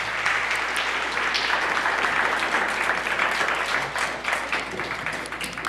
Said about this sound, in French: Vous pouvez applaudir pour eux autres,